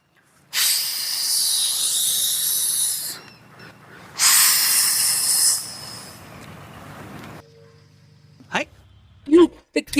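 A voice imitates a snake with two long, loud breathy hisses separated by a short pause, followed by a few brief vocal sounds near the end.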